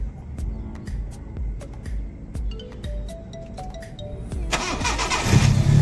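A Honda Civic VTi that had been refusing to start and backfiring cranks with a rapid rhythmic whirring and clicking, then catches and roars into a louder running engine at the end, close by.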